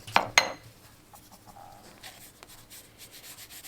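Watermedia drawing sticks are rubbed and blended across paper. Two sharp strokes open, then soft, scratchy rubbing continues quietly and intermittently.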